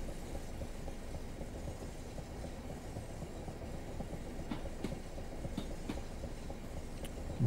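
A train in the video game Train Sim World slows down with a soft, steady rumble of rolling wheels and faint clicks on the rails, heard alone with no talking.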